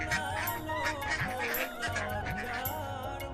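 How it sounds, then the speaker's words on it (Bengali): Cartoon ducks on a village pond quack and honk in a dense, continuous chorus, many birds calling at once close up, with a backing soundtrack. "রমেশ ভাই তুমি দেখি পুকুর ভরে হাঁস পুষতে শুরু করেছো"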